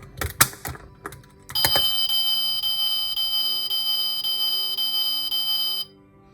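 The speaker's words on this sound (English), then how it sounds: "You can hear that alarm going off." A Bumblebee Chevrolet Camaro 1/32 diecast toy sounds its car alarm: a few sharp clicks, then a steady shrill electronic pulsing beep that runs for about four seconds and cuts off.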